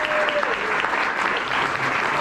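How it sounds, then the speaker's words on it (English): A forum audience gives a speaker a dense, continuous round of applause, even and moderately loud throughout the short stretch, with a faint tone briefly audible at the start. "please give an amazing Glendora round of applause for Lance Christensen"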